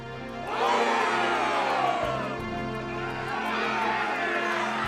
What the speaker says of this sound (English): Hunters raise their weapons and cheer.